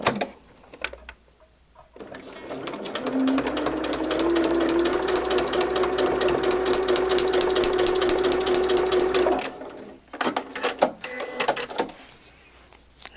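Sewing machine stitching a quilt block seam, a steady fast mechanical whir with a rising whine that runs for about seven seconds and then stops, with quiet handling noises before and after.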